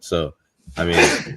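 A single sharp sneeze bursts out right after a short spoken phrase, loud and close.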